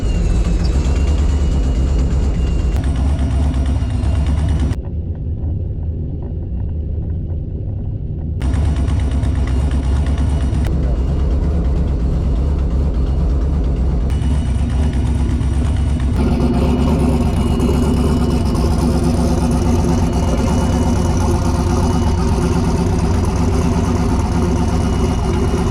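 A Chevrolet S10 truck with a rear-mounted radiator and an untuned setup runs loud and close with an odd, uneven engine note, cutting out briefly and then returning with a rougher, revving tone.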